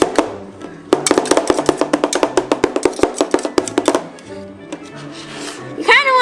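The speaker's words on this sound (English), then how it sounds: "we're almost done chopping it up" Rapid chopping of candy cane ice cream on a cold ice cream roller plate, a dense run of sharp, close taps in a steady fast rhythm that stops near the end, with a few scattered knocks and scrapes afterward.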